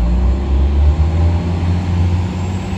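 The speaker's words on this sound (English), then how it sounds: "Always some noisy cars and trucks out here in the morning" Cars and trucks pass outside on a morning road, forming a continuous low, rumbling traffic drone with no voices over it.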